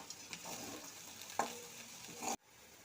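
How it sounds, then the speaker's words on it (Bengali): Black cumin seeds, green chilli and turmeric frying in oil, a soft steady sizzle with a couple of light stirring taps, fairly faint and close, cut off abruptly near the end. "তেলের মধ্যে অল্প একটু কালো জিরে দিয়ে আর কাঁচা লঙ্কা আর একটু হলুদ দিয়ে ভাজছি"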